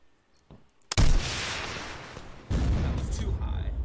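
Rocket launcher fired in a looting shooter game, a sharp blast followed by a loud, sustained roaring rush of noise that fades, then a second heavy burst of rumbling explosion.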